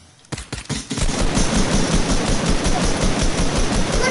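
Gunfire in a video game: a few separate sharp shots, then a dense, continuous rattle of rapid fire that keeps going, loud and close, with no speech over it.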